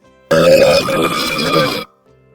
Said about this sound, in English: Imagine if you didn't burp for a whole year and then you let out 1 mega burp.